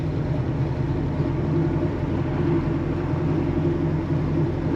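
Big block car engine with a 4-speed manual gearbox, in first gear, gives a loud, steady low rumble held close by for several seconds without a clear rise in revs; no talking.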